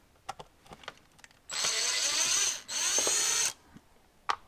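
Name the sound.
power drill driving a T10 bit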